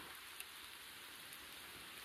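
Continuous soft patter of rain falling on a surface, steady and even throughout, with no voices, during horse logging.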